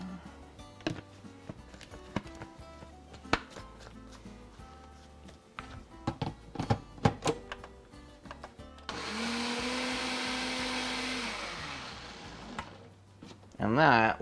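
A blender whirs steadily for several seconds as it blends nogada sauce with milk, following a stretch of clattering kitchen knocks and handling noises, with a brief burst at the end.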